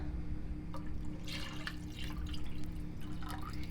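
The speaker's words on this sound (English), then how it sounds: "We add our tomato, then we add water," Water is poured into a tomato-based lentil pasta sauce in a pan, giving a steady low liquid rush broken by brief splashing and dripping bursts, with no voices.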